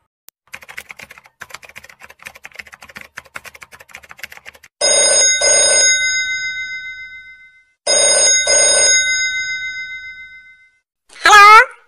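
A telephone rings loudly in two long, bright bursts after a stretch of light, rapid tapping like keys. A short warbling chirp follows at the end.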